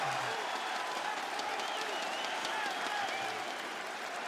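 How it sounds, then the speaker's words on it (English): Crowd at an esports arena during a CS:GO match, applauding and cheering in a dense, continuous wash of clapping, with a commentator's voice running over it. "standing up and cheering, getting the crowd on their feet as well"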